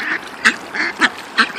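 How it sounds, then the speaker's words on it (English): Ducks being fed bread at a park give several loud, close quacks in quick succession, about four distinct calls in under two seconds. "And plenty of ducks."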